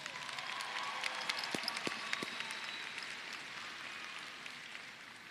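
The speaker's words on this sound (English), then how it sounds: "Let's have a round of applause for all our distinguished guests." Applause from an audience at the Summit High School Class of 2023 graduation ceremony, a steady moderately distant patter of many hands clapping that gradually fades out.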